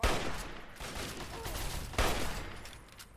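Gunfire in the video game Fallout 3 crackles through a battle, with two sharp loud bursts at the start and partway in, separated by a sustained rattle of shots that fades toward the end.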